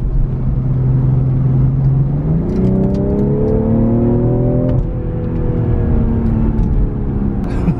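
A 2020 BMW M340i engine revs up and pulls hard. Its rising harmonic whine climbs in pitch through the gears, loud and close, with no voices over it.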